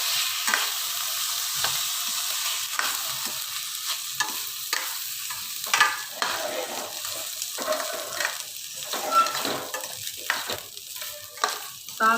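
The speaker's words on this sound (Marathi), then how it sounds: "आता यामध्ये आपण धुतलेले तांदूळ घालूया. दोन मिनिट छान परतून घेऊया." Washed rice sautéed with dry fruits in a pan, a steady bright sizzle broken by repeated scraping stirs and clinks of a spoon, continuing evenly for several seconds with no talking.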